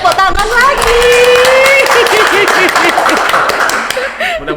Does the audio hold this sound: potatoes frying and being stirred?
no